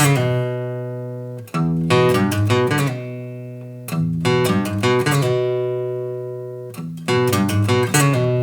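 Electric guitar playing a Texas-style blues lick in short bursts of quick notes that slide and slur into each other, with slides and pull-offs, separated by ringing pauses, played alone.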